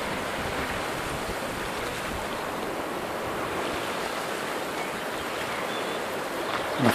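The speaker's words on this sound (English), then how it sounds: "a fine beach here at Cemaes Bay in Anglesey, Ynys Mon" Waves washing onto the beach at Cemaes Bay, Anglesey, a steady continuous surf roar with wind buffeting the microphone and no voices.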